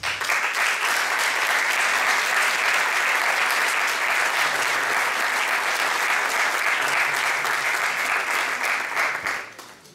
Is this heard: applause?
yes